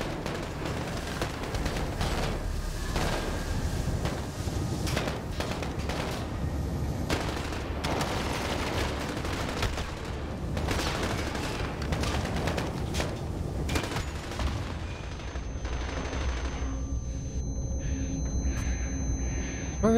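Sustained Call of Duty story-mode gunfire: rapid automatic bursts and scattered single shots crackle nonstop for the full stretch, loud and close, easing off somewhat toward the end.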